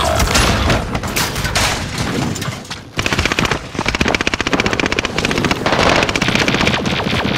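Gunfire and explosion in the Call of Duty video game, Resurgence mode: loud, dense bursts of automatic fire crackle almost continuously, with a brief drop near three seconds before rapid shooting resumes, close and unbroken.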